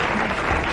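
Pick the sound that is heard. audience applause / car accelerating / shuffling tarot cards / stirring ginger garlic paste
audience applause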